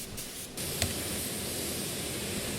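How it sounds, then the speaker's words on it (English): A spray gun lays heat-sensitive, colour-changing paint onto exhaust pipes, giving a steady, close broadband hiss that swells after a brief quieter start and continues evenly to the end. "Now to get full coverage of this heat sensitive paint, you need to spray about 4 to 5 coats."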